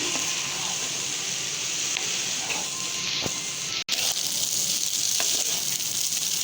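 Fried rice with soy sauce and red chili sauce is stirred in a hot pan, giving a steady, close sizzle with faint scraping stirs throughout.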